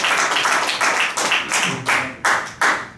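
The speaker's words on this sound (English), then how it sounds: "Yeah, you can clap your hands." A small audience at a Torah class claps their hands in several quick, uneven bursts of applause, fairly close and with no talking.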